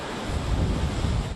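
Gusty October wind outside the Capitol in Albany, a continuous loud rumbling roar buffeting the microphone, with no voices.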